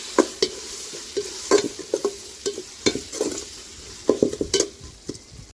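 Onions, garlic, coriander and mint sautéing for mutton biryani, with a low sizzle under frequent close spoon scrapes and clatters against the pan in irregular bursts, and no talking.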